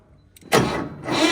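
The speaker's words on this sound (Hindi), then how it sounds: "तो चलो अब ट्रैक्टर स्टार्ट करके देखते हैं।" A tractor engine cranks and catches with a sudden loud burst, dips briefly, then rises again into a strong, close running roar, with no voices.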